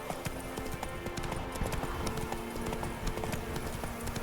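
Hooves of a horse galloping in The Witcher 3, a steady rapid clip-clop over constant game ambience, close and continuous throughout with no speech.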